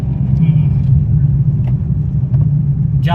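A car engine runs steadily in second gear during a beginner's road driving lesson, a continuous low rumble throughout with a brief rattle near the end.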